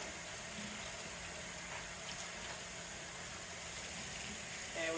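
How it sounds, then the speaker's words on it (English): Hot water runs from a kitchen tap while a scrubber is rinsed, a steady rushing stream with faint clinks and a brief louder splash near the end. "under the hot water, we'll just use our scrubber"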